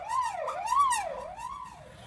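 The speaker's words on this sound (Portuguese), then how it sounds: "ambulância." An ambulance siren wails, its pitch sweeping up and down in a repeating cycle, moderately distant and steady.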